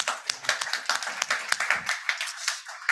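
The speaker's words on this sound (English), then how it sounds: "A round of applause for him over here as well." A small group claps steadily, with irregular overlapping hand claps that sound close and fairly light.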